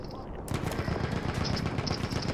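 Rapid automatic gunfire from the video game Battlefield 1 rattles in a dense burst after a short quiet start, loud and sustained to the end, with no talking.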